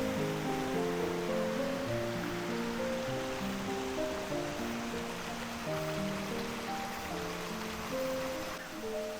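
The Munsadong valley waterfall and stream on Dobongsan in Korea pour with a steady, close rushing hiss of falling and flowing water, heard throughout beneath gentle background music.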